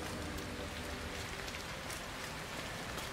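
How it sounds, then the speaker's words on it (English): Gentle rain falls steadily in the video game Hitman 3, a soft, even patter that stays constant throughout at low volume, with no voices. "Actually, this is like a nice rain, though. It's not too, like, heavy."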